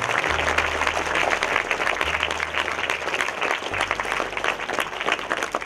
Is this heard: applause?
yes